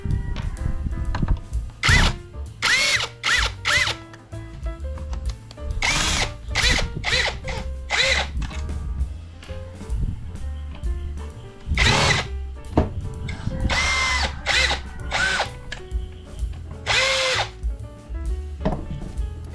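A power drill whirs close by in a series of short, separate bursts, starting and stopping repeatedly as screws are driven out of a portable power station.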